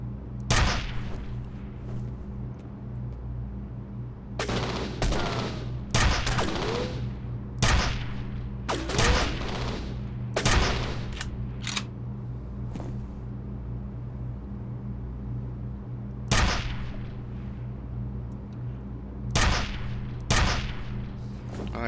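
Gunfire in the FEAR shooter game: loud, sharp bursts of shots come in irregular clusters, some rapid and some single, separated by brief quieter stretches of low hum.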